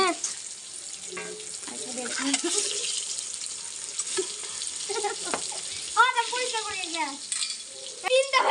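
An egg frying in a pan gives a steady sizzle throughout, with children's voices chattering over it nearby.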